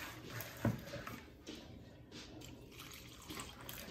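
Water is poured and splashes softly into a bowl of flattened rice to wash it, a faint continuous trickle with a brief louder slosh near the start.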